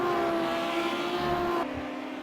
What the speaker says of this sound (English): but you can just hear the howling of these Audi engines